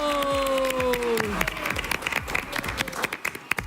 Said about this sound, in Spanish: Fuerte el aplauso para recibirlo a él.